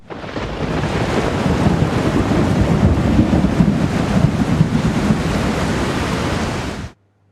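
Heavy monsoon rain and gusting wind in South Gujarat roar as a loud, continuous broadband rush that holds steady for several seconds before cutting off abruptly.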